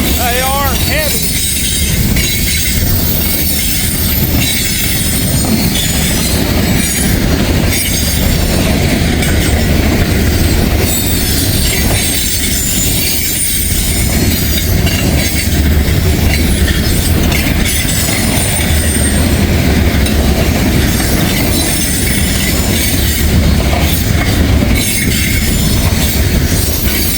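Heavy ballast freight train with older gondolas rolling past at close range, a loud, continuous rumble of wheels and cars with rhythmic clatter and a brief squeal near the start.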